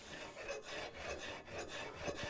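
A hand file draw filing a wrought iron door bolt in a workshop, a rhythmic rasping scrape repeated in quick even strokes, soft and close with no voices.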